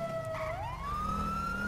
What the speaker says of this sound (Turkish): Sireni açabiliriz yani.